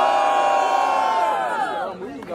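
Rap battle audience at Batalha do Coliseu roaring and shouting together, a loud sustained crowd of cheers and yells that holds steady before dipping near the end.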